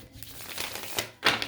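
A deck of tarot cards is shuffled by hand in a brief burst of close, crisp riffling and flicking, ending with a sharper snap.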